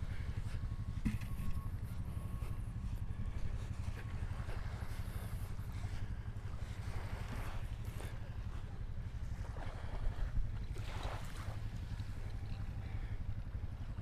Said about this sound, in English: That's a fun way to get out in the water, a jet ski.